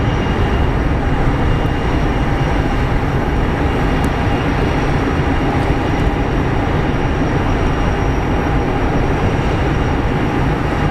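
An Airbus airliner taxiing at Phoenix Sky Harbor International Airport gives a loud, steady, close engine roar and rumble that runs unbroken throughout, with no voices.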